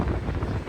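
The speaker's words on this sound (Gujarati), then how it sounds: "જુઓ તમે જોઈ કેવો પવન આવે." Strong wind rushes past on a moving Jaisalmer–Sabarmati express train crossing desert country, a steady low buffeting roar close to the microphone, with no talk.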